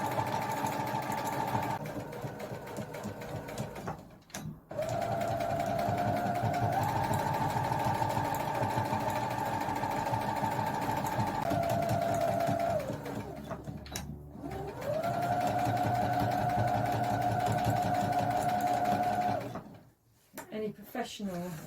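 Sewing machine top stitching a kids' tote bag, a close mechanical hum in several long runs broken by brief pauses, with a steady pitched whine over it.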